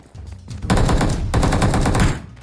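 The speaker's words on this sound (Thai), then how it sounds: "ตัวเราใช้ AK ยิงหรอวะ" AK rifle fire in PUBG Mobile, two loud close bursts of rapid automatic shots separated by a brief gap, with no talk over them.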